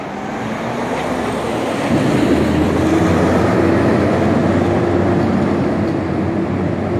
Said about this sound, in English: It's a noisy garbage collection day.